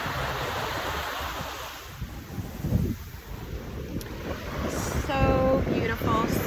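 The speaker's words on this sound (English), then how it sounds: "just watching the waves" Ocean surf at a beach in Maui, a broad continuous wash of breaking waves with wind buffeting the microphone, and a brief voice near the end.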